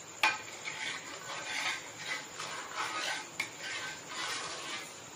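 Sugar being stirred into milk in a pot on a low flame, rhythmic scraping sweeps of a spoon against the metal, soft and fairly close, with a couple of sharper clinks.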